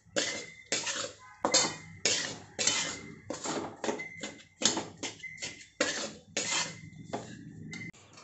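Jaggery is stirred into hot wheat flour in a pan, a spoon scraping and clinking against the metal in a dozen or so quick, uneven strokes, close and fairly quiet.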